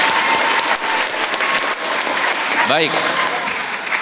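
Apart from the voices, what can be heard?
congregation applause in church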